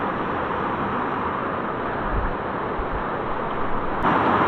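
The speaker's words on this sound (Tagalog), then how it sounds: "Buhay na buhay ang alon at napakalalaki" Big post-typhoon waves near Arapay Falls in Occidental Mindoro make a steady, loud roar of surf mixed with gusty wind buffeting, with no pause and no voices.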